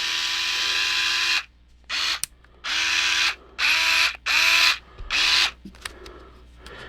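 A small USB-C rechargeable cordless electric screwdriver whirs in a series of short bursts, about six, each starting and stopping sharply with brief pauses between, close and fairly loud with no voices.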